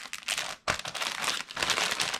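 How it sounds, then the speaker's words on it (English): A small plastic bag crinkles loudly up close as it is sealed and squeezed of air, in dense rustling bursts with one short pause partway through. "I'll take my little plastic bag and just close it. First, I'm going to squeeze out that air."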